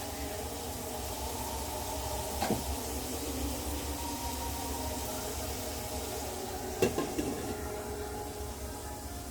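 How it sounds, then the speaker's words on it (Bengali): Spice paste sautés in a pan with a low, continuous sizzle and a couple of brief scraping stirs, fairly quiet and unaccompanied by speech. "মশলাটা কষানো হোক"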